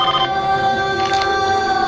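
Telephone ringing as a watchman calls the police station from Surjani Town, a steady electronic ringtone with sustained tones, loud and close, no speech.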